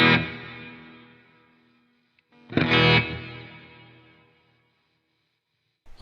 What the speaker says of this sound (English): Can you hear that reverb?